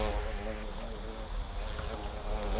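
Hairy hornets swarming in large numbers around a big nest, producing a dense, steady insect drone that fills the scene at a fairly even level throughout, with no clear gaps or pauses in the buzzing.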